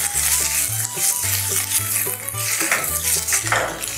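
Bay leaf sautéing in a pan for a taro mango ginger curry, with a utensil clinking and scraping rhythmically against the metal pan over a soft sizzle, close and fairly loud.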